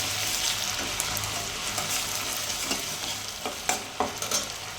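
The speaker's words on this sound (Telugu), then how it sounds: "ఇది ఇంకా మాడు పట్టకుండా కదిలించుకుంటూ ఉండాలి." Fresh ginger garlic paste sizzles and fries in a steel pan while a utensil stirs it, a steady bright crackle with scraping strokes near the end, close and moderately loud, no voices.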